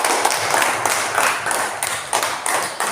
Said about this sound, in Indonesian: Tepuk tangan untuk Ring